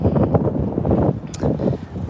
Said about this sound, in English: It's terrible when it's so beautiful and so windy at the same time.